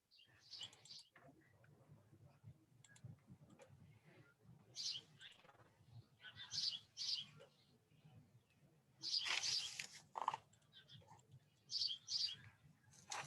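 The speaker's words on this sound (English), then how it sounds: "So I hear birds chirping." Faint bird chirps come in scattered short bursts outdoors, with soft background noise and murmured voices between them.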